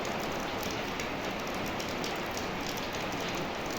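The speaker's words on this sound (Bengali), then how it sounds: "তখনই বৃষ্টি নেমেছে।" Morning monsoon rain falls outside a home, making a steady, even hiss of drops on surfaces that holds unbroken throughout, with no voices.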